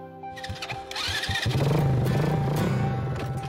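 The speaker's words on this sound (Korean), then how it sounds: "고지대에 살다 보니 사륜 오토바이가 발노릇을 한다." A four-wheel ATV engine starts up and settles into a steady, loud idle on a highland farm, with no talking.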